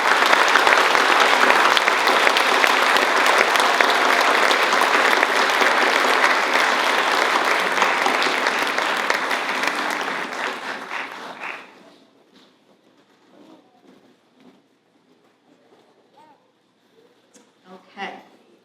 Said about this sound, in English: Let's give them all one last round of applause.